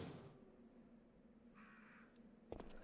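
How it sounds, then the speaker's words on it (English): A crow caws once in the Resident Evil 3 video game, a short distant call over a low ambient hum, followed by a sharp thud near the end. "I hear the crows. I hear the birds."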